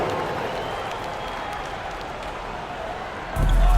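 A crowd cheers and applauds steadily for the Lakers in an NBA 2K23 basketball game, a dense roar that swells louder near the end.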